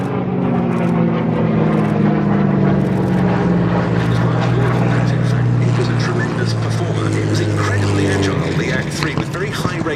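Ex-Spanish Air Force Buchon propeller fighter flying at an airshow, a loud, rough piston-engine drone whose pitch slides down as it passes close by, with someone talking over it.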